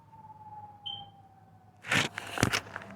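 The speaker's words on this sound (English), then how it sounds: "Hear that siren?" Emergency vehicle sirens wail during a blizzard under coastal flood warnings, a thin steady tone held faint and distant, then broken by loud bursts of wind or handling noise toward the end.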